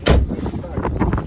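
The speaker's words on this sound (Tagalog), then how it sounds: "Wow, it's freezing. It's windy." Cold, windy outdoor weather in the UK buffets the microphone with loud low rumbling gusts, while a person talks briefly over the noise.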